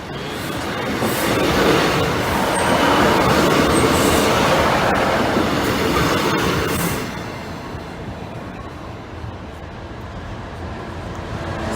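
A Class 156 diesel passenger train rumbles in steadily to terminate, loud and nearby, with rolling wheel noise and faint squeals before the roar eases off.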